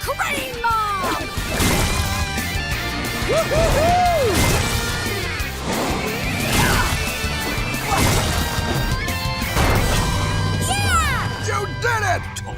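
Cartoon wrecking ball crane smashing giant tacos in a desert rescue, with repeated loud crashes and thwacks, whooshing swings and rising whoops layered over music and excited voices throughout.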